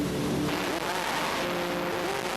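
A production saloon racing car, driven by Tim Harvey at the 1988 Production Car Championship, comes out of Clearways onto the straight with a loud, steady engine roar and crowd-level circuit noise.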